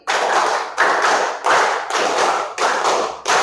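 A school class claps together in a rhythmic group hand-clap routine, with loud, close bursts of many hands arriving in a repeating series, each burst separated by a short gap.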